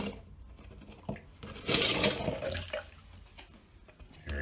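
Water scooped and splashed while bailing a flooded shower, with a brief, louder sloshing burst in the middle among quieter drips and clatter.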